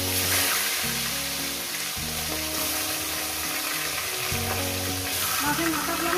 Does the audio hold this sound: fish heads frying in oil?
yes